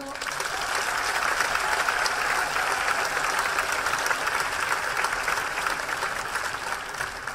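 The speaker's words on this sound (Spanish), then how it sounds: "Le damos un aplauso" Steady audience applause at a women's assembly event, a dense continuous wash of clapping filling the room for several seconds at even loudness.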